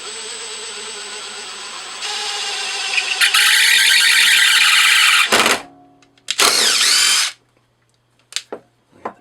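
Lathe boring straight through an RC car wheel in a workshop, a loud whining metal-cutting drone that rises in pitch, cuts off, returns in a second short burst, then gives way to a few sharp knocks.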